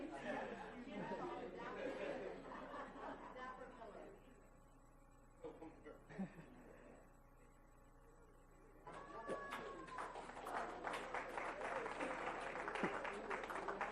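At a school district board meeting, brief talk and murmuring give way to a quiet pause, then a room of attendees breaks into a fairly faint round of applause for volunteers that continues to the end.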